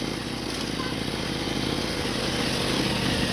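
A motorcycle engine runs steadily on an off-road mountain trail, a constant droning rumble close by with no change in pace, under faint voices.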